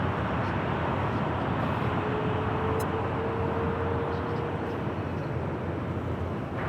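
An airliner takes off from runway 25 right at LAX, heard as a steady, broadband jet roar that holds evenly throughout with no clear rise or fade.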